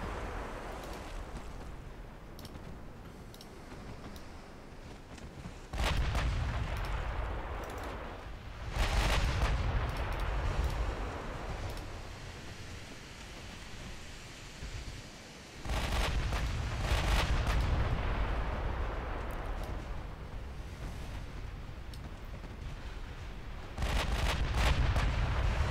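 In a naval battle video game, a battleship sinks under artillery fire. Heavy booming salvos and rumbling blasts come in loud bursts, with sustained low roaring between them and no voices.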